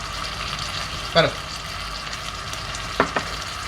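Tomato sauce with garlic and shallots simmers and fries softly in a pan, a steady low sizzle with two brief scraping stirs of a utensil, close by and fairly quiet.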